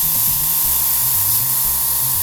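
Airbrush sprays paint onto canvas with the trigger pulled back, a steady close broadband hiss lasting the whole moment with no pauses.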